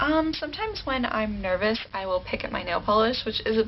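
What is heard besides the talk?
No everyday noise stands out behind the speech.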